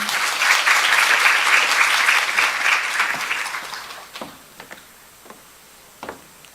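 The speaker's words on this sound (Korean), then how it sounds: "저희 큰 박수로 한번 맞이해 주시길 바랍니다." Audience applause welcoming a speaker at a university admissions information session in Busan, dense steady clapping for about four seconds that fades out, followed by a few scattered taps and knocks in a quiet room.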